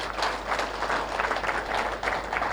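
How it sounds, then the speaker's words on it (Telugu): An audience at a talk claps in a dense, steady burst of applause that carries on evenly throughout, with no clear speech. "గట్టిగా చప్పట్లు కొడదాం ఒకసారి."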